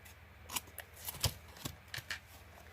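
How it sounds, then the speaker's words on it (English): Scissors trimming off excess glued material: a handful of quiet, close snips in an otherwise hushed room. "Let me just trim that off."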